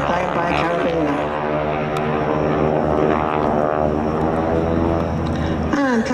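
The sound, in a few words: propeller aircraft flying at air show with wing walkers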